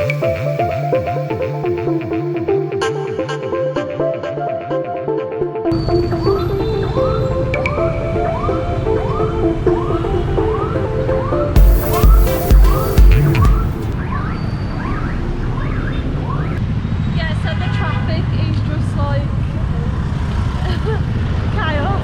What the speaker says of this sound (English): It sounds really busy at the minute, a lot of horns going off, a lot of traffic everywhere.